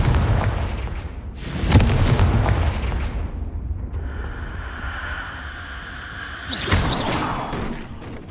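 In Hogwarts Legacy, the Confringo blasting spell lands as deep booming blasts over a low rumble: one heavy burst near the start and another about five seconds later, each with a bright crackling tail.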